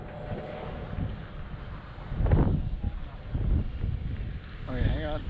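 Outdoor wind buffets the microphone as a steady, rumbling low roar that swells and fades over a few seconds, near a small AR Wing VTOL drone, while a person talks faintly underneath.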